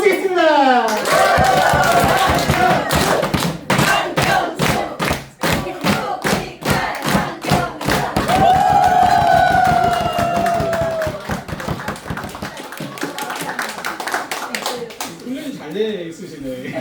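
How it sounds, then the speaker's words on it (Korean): An audience at a lecture event claps in loud rhythmic unison for a speaker's entrance, with shouts and cheering mixed in, then the beat breaks up and fades as voices carry on over it. "우리 대표님 모실 때 뜨거운 환희 박수 부탁드립니다"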